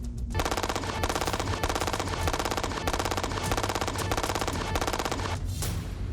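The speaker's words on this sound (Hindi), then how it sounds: "1 मिनट में ये गन 900 राउंड्स गोलियां दाग सकती है।" A submachine gun fires rapid automatic gunfire that rattles continuously in a fast, even stream of shots, loud and close, stopping only briefly before resuming.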